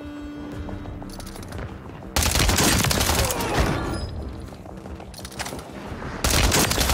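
Loud, dense gunfire in a shooting video game, with bursts of rapid shots and heavy volleys, a quieter lull between them, then another loud burst at the end.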